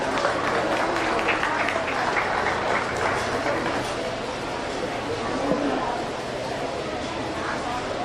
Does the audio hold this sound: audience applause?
yes